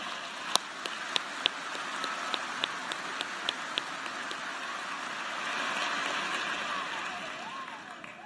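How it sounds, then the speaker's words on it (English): Faint, distant applause from a large university graduation audience forms a soft wash of clapping, with a few sharper individual claps popping out near the front during the first half. "Let's have a round of applause for this special group."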